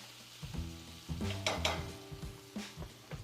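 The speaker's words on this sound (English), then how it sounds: "You got your onions and peppers, saute a little." Onions and peppers sauté in a hot skillet for a vegan breakfast, a steady sizzle broken by scraping stirs and a few light clanks of utensil against the pan, close by and with no talking.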